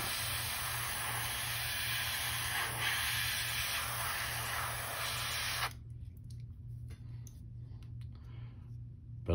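A steady, close hiss of aerosol color-shift spray paint laid on as a heavier coat over gloss black, holding evenly for about six seconds before cutting off, then faint clicks and handling noises.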